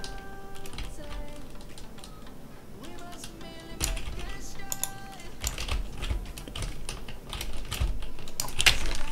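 Computer keyboard keys pressed during a Roblox Coal Miner Tycoon 2 game: a steady stream of close, crisp clicks and taps, some in quick runs, over faint game music tones and low background sound.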